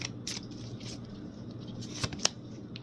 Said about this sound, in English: I don't usually shuffle the cards this way, but they're wanting me to shuffle them this way.